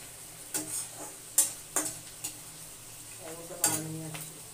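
Fried onion and spices being stirred in a pan for chicken biryani, a utensil scraping in several distinct strokes over a low sizzle, close and fairly quiet.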